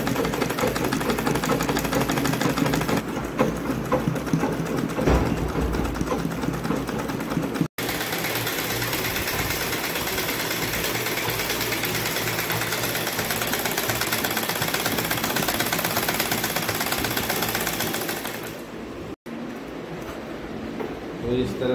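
An electric sewing machine stitches the drawstring down the centre of a six-panel petticoat in one pass, giving a steady, close whirring hum that runs almost without a break for the whole stretch.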